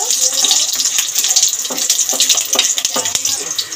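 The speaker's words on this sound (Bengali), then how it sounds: "ফোড়নটাকে ভেজে নেব।" Five-spice seeds and whole green chillies sizzle in hot mustard oil for a Bengali mourala fish chorchori, a steady bright crackling hiss with scattered pops throughout, no talking.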